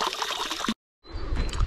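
Natural water trickles and splashes steadily up close near the Einsiedel Dam outside Chemnitz in Saxony, cutting out briefly before resuming.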